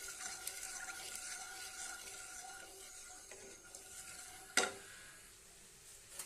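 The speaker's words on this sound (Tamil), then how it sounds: "இது ஒன்றா நல்லா கலந்து விட்டுடலாம்." A mango, milk and sugar mixture is stirred in a pan for a mango sweet, with steady scraping and stirring strokes over a faint sizzle and one sharp clink of the spoon against the pan near the end.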